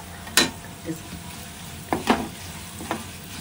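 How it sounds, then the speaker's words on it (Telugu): Asafoetida dropped into hot peanut oil gives a low, steady sizzle while cooking a tempering for homemade tomato chutney. A few sharp clinks and scrapes of a spoon against the pan punctuate it. "బాగా వేగినాక ఇప్పుడు ఇంగువ వేసుకుంటాము"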